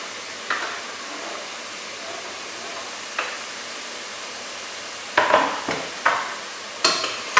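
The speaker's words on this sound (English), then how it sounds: "Next we're going to add our carrot, because that takes a little bit of time to cook down." Chopped carrot cooks in a pan with a faint sizzle, broken by several sharp scrapes and knocks of a spoon stirring against the pan, clustered toward the end.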